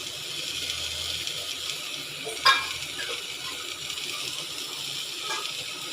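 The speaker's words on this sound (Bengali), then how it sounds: "দেখো আমার সবজিগুলো ভাজা হয়ে গেছে।" Vegetables frying in a pan with a little spice and salt while cooking a mung dal dish, a soft steady sizzle throughout with one brief sharp clink of utensils midway, no talking.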